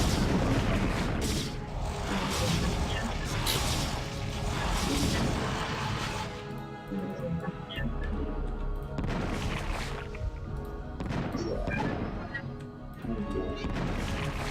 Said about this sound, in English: I'll take my gun and fire it